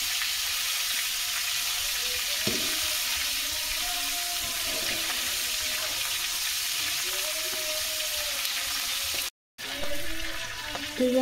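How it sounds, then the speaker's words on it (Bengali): A fish head frying in oil, a steady broad sizzle throughout with faint clinks and soft kitchen knocks, briefly cutting out near the end. "মাছের মাথা ভাজা হয়ে গেছে"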